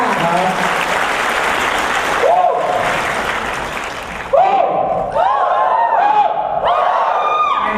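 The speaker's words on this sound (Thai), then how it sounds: "ขอเสียงปรบมือต้อนรับ" Loud applause from a crowd welcoming a speaker at a team building walk rally event, steady clapping throughout with a few cheers and whoops rising over it in the second half.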